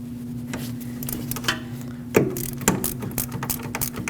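A socket wrench ratchets on a caliper bracket bolt of a Lexus IS250, with rapid close clicking over a steady hum and a couple of sharper metallic knocks.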